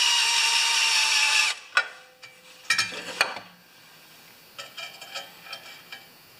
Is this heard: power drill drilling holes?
yes